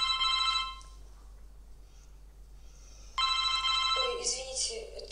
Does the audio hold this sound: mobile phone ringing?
yes